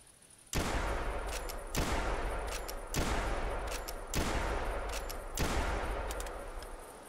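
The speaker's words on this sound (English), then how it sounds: "how quickly I can shoot the five shots in a row" Five loud, evenly spaced rifle shots from a .405 lever action in the hunting game theHunter Classic, each a sharp crack followed by a long rolling echo, with no talking.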